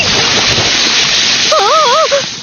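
Cartoon hot water splashes and gushes steadily and loudly, while a wavering whistle-like tone rises over it near the end.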